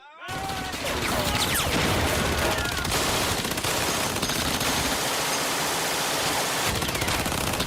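Intense machine gun fire during the Normandy D-Day beach landing, a dense, roaring fusillade of overlapping bursts that sounds loud and continuous throughout, with no talk over it.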